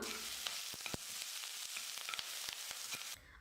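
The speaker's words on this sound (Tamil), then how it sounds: "ஒரு வெங்காயம் எடுத்து நல்லா பொடியாக கட் பண்ணி வச்சுருக்கேன் கருவேப்பிலை கொஞ்சம் எடுத்து வச்சுருக்கேன் இது ரெண்டையும் சேர்த்துட்டு நல்லா வதக்கிக்கலாம்" Chopped onion and curry leaves sautéing in a hot pan, a steady close sizzle broken by sharp crackles and pops, with a few stirring scrapes, alone without talk.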